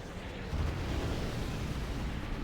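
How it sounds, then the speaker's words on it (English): Tactical nuke artillery blast in Command & Conquer Generals: a deep, continuous rumbling explosion that swells and roars for several seconds without letup. "These artillery pieces launch tactical nukes capable of destroying most things in the game with a rather satisfying explosion."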